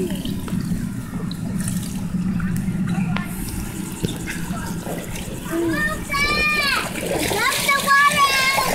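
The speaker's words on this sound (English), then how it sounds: "Oh no, water leaking." Water from a backyard slip n slide splashes and leaks onto the ground, a steady close wash of splashing with children's voices and shrieks rising over it toward the end.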